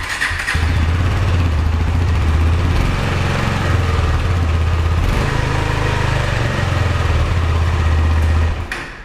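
A KTM 250 Adventure motorcycle engine starts and runs loudly at close range, idling with a steady rumble and a few light revs before cutting off.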